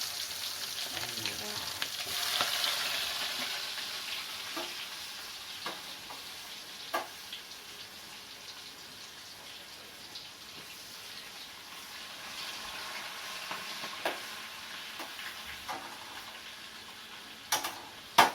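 Bitter gourd slices deep-fry in hot oil, a steady soft sizzle for a long stretch with occasional sharp clicks and taps from the utensils.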